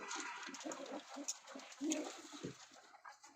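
Caged pigeons with feathered, sock-like feet coo softly and repeatedly at close range, with faint rustling and shuffling in the enclosure and a little background voice.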